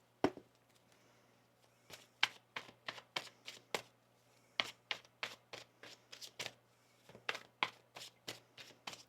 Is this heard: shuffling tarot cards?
yes